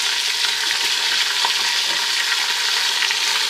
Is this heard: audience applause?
no